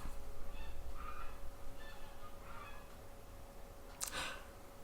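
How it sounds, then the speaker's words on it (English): Several faint honking calls from geese in the distance, spread across the clip over a steady background hum, with a brief sharper burst near the end. "I hear those geese out there kicking up some ruckus."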